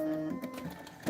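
An embroidery sewing machine stitches a tack-down line, giving a brief, close mechanical whir with rapid stitching pulses and a short burst at the end.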